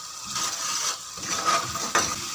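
Coriander masala fries in a pan over a medium-high flame, with a close, steady hissing sizzle and the scrape of stirring.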